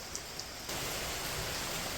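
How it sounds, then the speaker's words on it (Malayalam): Rain falls outside a village house in Kerala, a steady, even hiss that starts abruptly partway through and then holds at a soft, continuous level with no voices. "മഴ തുടങ്ങിയിട്ടുണ്ട് അപ്പുറത്ത് മഴയൊക്കെയാണ്"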